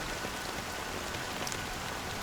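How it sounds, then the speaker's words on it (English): Dense, even rain pours continuously in Honkai: Star Rail, a close and steady wash of drops with no voices. "it's still raining."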